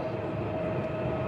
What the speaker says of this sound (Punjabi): ਅਤੇ ਆ ਗਈ ਆ ਬੁਲਟ ਟ੍ਰੇਨ